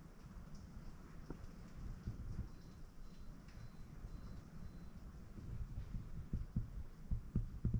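Rain falling outdoors near a house, a faint continuous patter with scattered heavier drops and occasional low thuds, quiet and steady with no talking.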